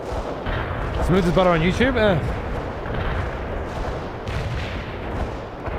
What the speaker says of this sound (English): Molotov firing mortars